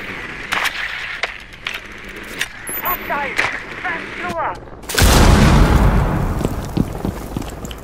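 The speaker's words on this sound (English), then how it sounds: "Throwing frag grenade." Frag grenade explosion in Rainbow Six Siege, one loud close boom bursting in midway and trailing into a long rumbling decay, with players talking before and over the blast.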